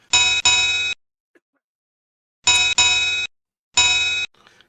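Signal box bells in the PC-Rail Blisworth railway simulation, bright metallic rings struck in quick pairs, three separate groups separated by silence, loud and close.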